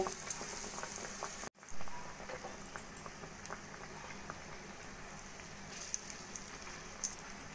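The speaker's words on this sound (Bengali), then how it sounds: "কড়াইতে তেল গরম বসিয়ে দিয়েছিলাম আগেই, এবার ভেজে নেব।" Bread slices dipped in besan batter sizzle steadily in hot oil in a kadai, a continuous crackling hiss with a brief dropout near the start, fairly close and moderate in level, no talking.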